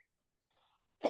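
Near silence, then a single short cough bursts out near the end.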